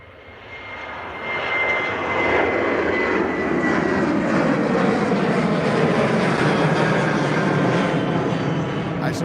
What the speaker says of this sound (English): that's the Jet2 737-800 and the Jet2 livery